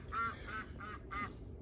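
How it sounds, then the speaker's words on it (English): Ducks give three quick, nasal quacks in a row, close by and fairly faint, over a low background rumble. "Ducks are laughing."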